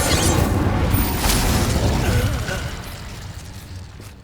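An Incendio fire spell bursts in Hogwarts Legacy, a loud roaring whoosh with a booming low body that holds for a couple of seconds, then fades away.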